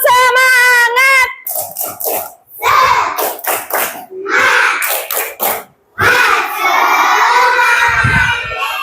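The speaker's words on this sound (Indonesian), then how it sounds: "Ya, tepuk semangat." A group of children in a classroom shout an Indonesian clapping chant in unison while clapping in a quick rhythmic pattern, ending in loud cheering and applause.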